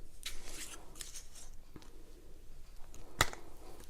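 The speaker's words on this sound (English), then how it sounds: "I'm unwrapping this so that I can open it and show it to you." Plastic wrapping being torn and peeled off a deodorant package, scattered crinkles and rustles with one sharp snapping tear near the end, close and fairly quiet.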